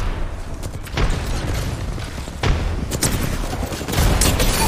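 Grenade blasts and gunfire in a multiplayer video game, a dense fusillade of booming explosions and rapid shots rolling continuously and loudly throughout, with several sharper bursts standing out.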